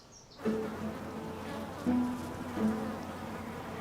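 Bees buzzing at a school garden in Huddersfield, a steady close drone with several louder passes as individual insects fly near, no voices.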